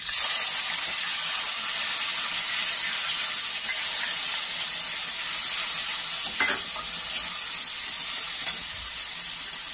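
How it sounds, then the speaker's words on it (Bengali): Ginger, chili and tomato paste frying in a pan produce a loud, even, hissing sizzle nearby, with faint scraping from stirring and a couple of brief clatters. "এবার আমি এই যে আদা লঙ্কা টমেটো পেস্ট করে রেখেছিলাম, এটা আবার আমি দিয়ে দেবো"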